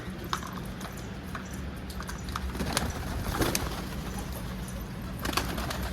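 Pigeons coo softly in a loft, low repeated coos at moderate distance with faint rustles and a few sharp clicks, no talking.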